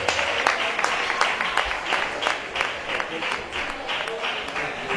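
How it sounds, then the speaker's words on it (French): An audience at a vocal competition quarter-final applauds, a moderate wash of clapping with distinct individual claps, some voices mixed in. "Et ça s'applaudit, s'il vous plaît."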